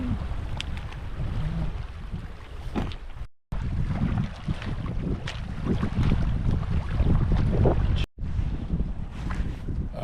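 Wind gusting hard across an open lakeside at a cold campsite, a loud continuous roar and buffeting with microphone rumble, breaking off twice in brief silent cuts.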